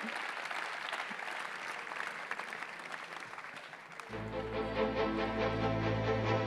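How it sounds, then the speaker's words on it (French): Applause from an audience at a Mayenne sports club awards ceremony, steady clapping for about four seconds before loud music with a heavy bass beat cuts in and plays over the last clapping. "Et on vous applaudit encore une fois."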